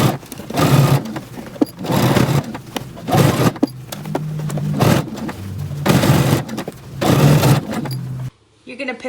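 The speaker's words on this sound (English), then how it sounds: "now you're going to go to your sewing machine and you're going to stitch using 3/8 of an inch seam allowance for this area here." A sewing machine stitches a 3/8-inch seam on a turtleneck dress with a fishtail, running in short close bursts of whirring that alternate with a person talking.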